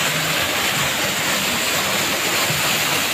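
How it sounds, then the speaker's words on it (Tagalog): Twin Falls waterfall in Kalayaan with very clear water, a steady, loud, broadband rush of falling water that runs unbroken throughout. "Ayan po ang falls."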